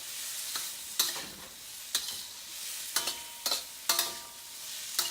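Food stir-fried in avocado oil over high heat, with a steady sizzle broken by sharp scraping strokes of a spatula against the pan roughly once a second, close up and without speech.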